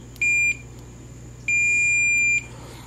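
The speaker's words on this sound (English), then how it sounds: "I figured it out with my meter here, just checking for continuity." Two clean electronic beeps from a multimeter continuity test on a guitar speaker cabinet jack, the first short and the second held about a second, loud and steady over a low hum with no talking.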